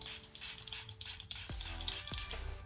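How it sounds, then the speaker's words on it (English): A bottle of glowy makeup setting spray rattles and clicks as it is shaken, followed by a couple of short hissing sprays, all close and quiet with no talking. "and I like the sprayer. I'm gonna shake it first."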